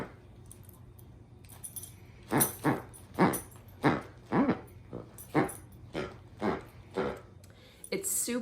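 A dog plays roughly with a fabdog plush sloth squeak toy, giving a run of about ten rhythmic rustling, growling bursts, close and moderately loud, with a voice talking quietly underneath.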